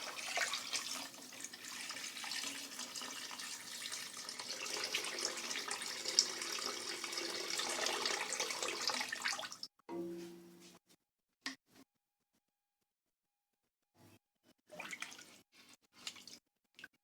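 About two liters of water are poured into a soup pot while making chicken corn soup. A soft, continuous splashing stream runs for roughly nine seconds, then stops, followed by a few faint clinks and handling sounds.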